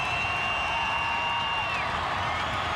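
Packed wrestling arena crowd at a WWE title match, Undertaker versus Vader, giving off a continuous roar of cheering and clapping, with a thin whistle-like tone riding over the din for a couple of seconds.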